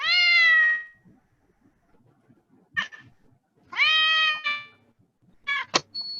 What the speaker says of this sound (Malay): Satu kucing meow dan satu lagi bunyi cicing